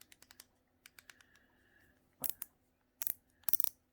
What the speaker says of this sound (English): Really good positive auto clicks with the spool tension knob.